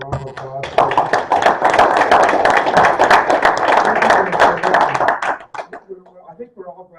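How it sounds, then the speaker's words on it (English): A round of applause at a school board meeting, with dense clapping from the room running for about five seconds before it tapers off into scattered claps and voices. "a round of applause."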